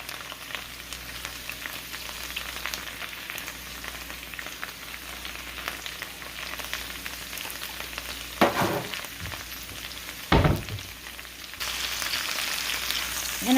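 Food seasoned with garlic powder and black pepper sizzles and fries steadily in a pan, with a couple of sharp scraping clatters as pieces are flipped and moved around; no talking.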